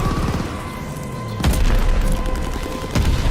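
Explosions from a friendly bombing run in the Call of Duty Vanguard video game: a sustained rumbling barrage with two sharp, loud booms, one a third of the way in and another near the end, over steady battle noise.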